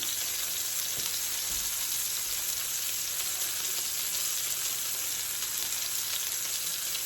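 Chicken breasts fry in olive oil in a pan, giving a steady, close, even sizzle that runs unbroken with no talk over it.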